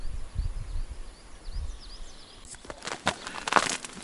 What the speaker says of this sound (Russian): Да птиц много уже. Весенних птиц много.